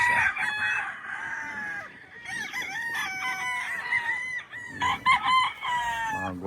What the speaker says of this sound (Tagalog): Mga gwapong manok